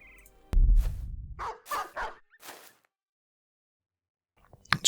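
War dogs in the Battle Brothers game, several gruff barks and yips in a quick burst after a low thud, then a pause before another sharp bark.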